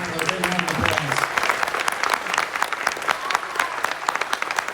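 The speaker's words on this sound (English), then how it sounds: "let's give this distinguished panel a big round of applause" Loud, dense audience applause for a distinguished panel at a live discussion about medicine from space, a steady wash of many clapping hands sustained throughout at close range.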